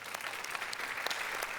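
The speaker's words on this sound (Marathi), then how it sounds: "जोरदार टाळ्या" Applause rings out for a nominee at a Marathi awards show, a steady, dense wash of clapping from an audience that holds at even loudness through the whole short stretch.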